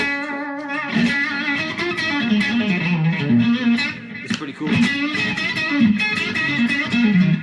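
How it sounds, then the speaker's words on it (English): Electric guitar through a Helix phaser and Darkglass distortion, swirling and gritty, playing a sustained melodic line while a voice speaks briefly over it. "there's a little effect on the amp too right now. But that's the Helix phaser."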